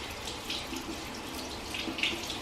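A bathroom sink tap runs steadily while a scrubber is held under the stream, giving a continuous close splashing hiss with slight shifts as the flow is disturbed.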